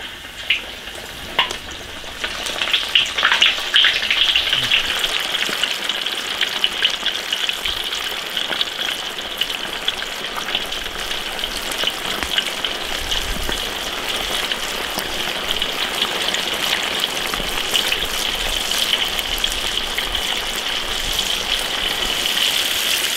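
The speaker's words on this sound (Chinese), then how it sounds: "油温7成热，炸鱼块。" Fish pieces deep-frying in hot oil in a wok, a steady dense sizzle and bubbling crackle that runs unbroken and fairly close, with a few sharper pops near the start.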